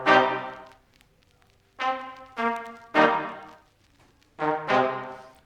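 Synthesized trumpet patch from FL Studio played dry with no effects: short brassy stabs in a syncopated pattern of about five hits with gaps between, clear and close, no talking.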